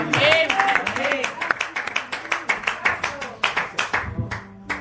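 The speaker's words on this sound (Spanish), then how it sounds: "Den un aplauso al Rey de Reyes en esta mañana" Church congregation claps in a burst of applause that thins into scattered individual claps, with voices and singing heard over it.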